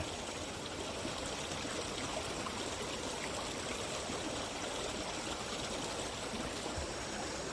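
Stream water flows steadily in a natural outdoor setting near a small wooden dam, a continuous close rushing and trickling wash with no breaks and no voices.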